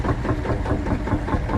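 A Field Marshall tractor engine chugs nearby at a steady idle, a loud, deep, uneven thumping pulse with a knocking character and no voices.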